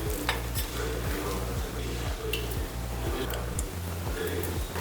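Cumin and curry leaves fry in about three tablespoons of oil in a pressure cooker, a soft, continuous sizzle under regular rhythmic stirring scrapes and light metal clinks.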